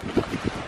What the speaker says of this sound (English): it's blowing 38 knots